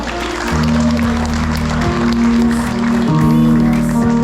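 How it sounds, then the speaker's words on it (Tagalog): Applause from a crowd at a birthday celebration in Talugtog, Nueva Ecija greets the celebrants, steady clapping under background music. "Bigyan po natin sila masigarong palakpak"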